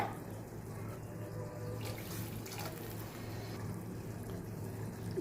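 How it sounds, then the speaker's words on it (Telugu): A glass of water is poured into a cooking pan over sauteed drumstick leaf powder while making a ragi rava dish, a steady gushing splash that runs continuously for several seconds. "ఈ గ్లాస్ వాటర్ యాడ్ చేస్తున్నాను."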